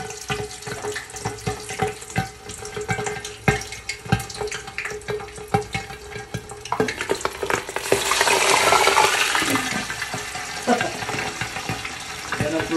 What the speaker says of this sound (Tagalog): kailangan na natin ihanda yung ating copper dahil mahirap magprito ng bangus